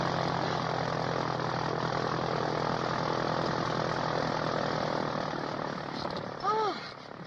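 Propeller airplane engine droning steadily in flight, a loud continuous hum heard from inside the cabin, with a brief faint voice near the end.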